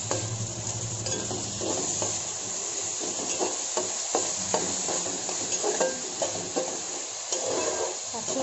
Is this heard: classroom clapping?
no